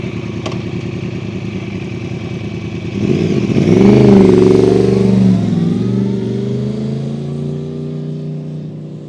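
A Yamaha R1 motorcycle rides through a cone course at a Mod 1 test centre, its engine note rising as it accelerates into the run, then easing off as it slows, close and steady without talk.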